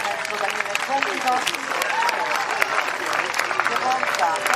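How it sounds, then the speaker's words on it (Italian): Crowd applauding a rider at a Sardinian horse show in Oristano, dense sustained clapping with a announcer speaking over it the whole time. "Un applauso al maestro Daniele Compito"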